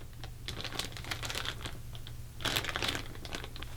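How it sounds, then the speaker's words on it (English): A clear 6x9 zip-top plastic bag packed with toiletries crinkles and rustles in close, uneven bursts, growing louder around the middle, alone with no voices. "This is my 6x9 clear zip-top bag filled up"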